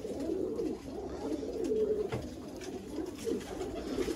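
A Sialkoti pigeon coos in low, throaty rolling phrases, repeating steadily and fairly close, with no talk over it.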